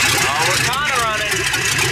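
An LS-swapped Mustang engine runs near, a steady rough idle with slight rich-or-lean unevenness, while a voice talks over it.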